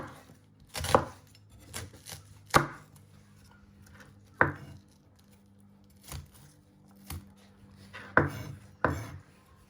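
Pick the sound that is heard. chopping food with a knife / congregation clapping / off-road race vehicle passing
chopping food with a knife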